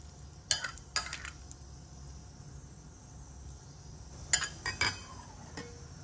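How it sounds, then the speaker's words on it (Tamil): Chicken being mixed with sesame oil in a bowl for chicken porridge, quiet stirring with a few sharp utensil clinks in two bursts over a low steady background. "இதை மட்டும் சேர்த்து நல்லா சிக்கன் எல்லா பக்கமும் அந்த ஆயிலெலாம் சேர்கிற மாதிரி நல்லா மிக்ஸ் பண்ணி வச்சுக்கலாம்"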